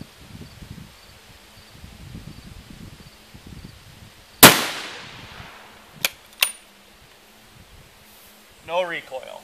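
A 6.5 SAUM rifle with a self-timing muscle brake fires a single sharp, loud shot with a ringing decay, followed by two quick metallic clicks of the action and a brief rattle, with faint outdoor background noise.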